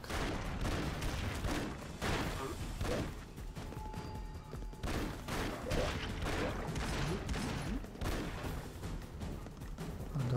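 Gunfire and explosions from the side-scrolling action game Broforce, dense crackling shots and booming blasts overlapping continuously at steady high loudness with no pauses, no voices heard.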